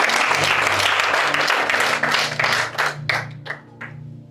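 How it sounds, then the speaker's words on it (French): A church congregation at a Sunday service applauds and cheers for Jesus, loud dense clapping that thins out into a few scattered final claps near the end. "On peut acclamer Jésus."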